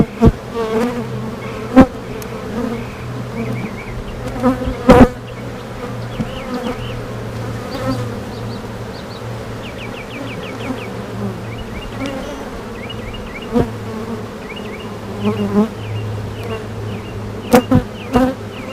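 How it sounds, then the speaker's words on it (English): Honeybees buzzing around a backyard beehive as foragers bring in pollen, a steady, close drone of many wings with individual bees flying past, plus a few sharp knocks and taps. "There's bees bringing in pollen, which is usually a good sign."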